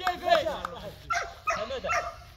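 A guard dog, likely a Malinois, gives short yips and whimpering barks during French ring sport training, close by and mixed with people talking outdoors.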